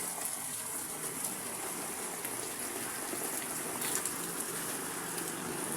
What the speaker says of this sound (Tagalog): grabing ulan. Kita nyo naman.